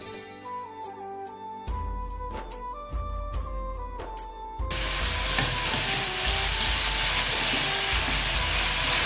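Chicken being mixed and fried in a pan: a light tonal backdrop at first, then a loud, steady sizzle that swells and holds as the meat is stirred.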